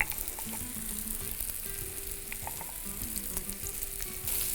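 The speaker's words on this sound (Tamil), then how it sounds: "தீயை நல்லா இன்க்ரீஸ் பண்ணியிருக்கேன். இப்போது சுற்றி எண்ணெய் விட்டுறேன்" Pieces of elephant foot yam frying crisp in oil on high heat, a steady loud sizzle and crackle running throughout with occasional stirring touches, close up.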